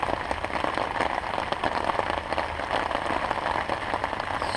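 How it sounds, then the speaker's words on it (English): Rain falls steadily on and around a beehive during days of wet weather, a soft dense patter of drops with a continuous hiss and no voices. "it's raining, and it's been raining for days on end"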